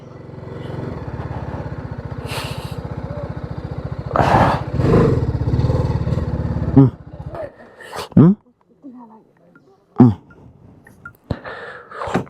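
A Darjeeling-to-Sikkim touring motorcycle engine idles and revs nearby, steady and loud at first, then cuts out, followed by brief bursts of engine noise and people talking.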